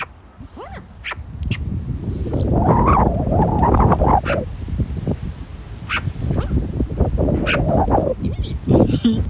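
A pet bird calls outdoors on a sunny but gusty day, giving a string of short chirps and squawks over steady rumbling wind, with a person's voice briefly nearby.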